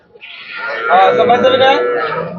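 An Australian Friesian dairy cow lows at a busy cattle market in Keraniganj, one sustained moo rising and holding for about two seconds over crowd chatter.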